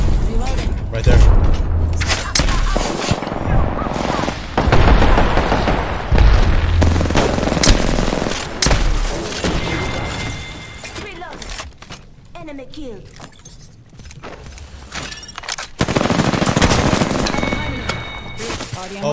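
Gunfire rattles in a video game, with rapid bursts of machine gun fire, heavy booms and explosions coming in loud waves, and players talking over the shooting.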